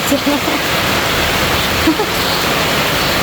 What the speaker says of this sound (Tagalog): as you can see, ang lakas ng ulan.